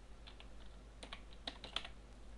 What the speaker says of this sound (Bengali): আমি এখানে লিখে দেখি পিং স্পেস সৌরভ